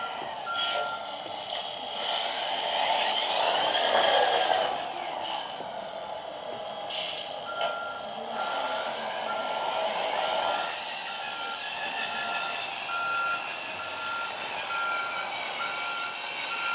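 A 1/14-scale RC D1050 crane truck backing up slowly in low-speed gear, its electronic reversing beeper repeating in a steady pulsing pattern over a whirring motor hum, with no talking.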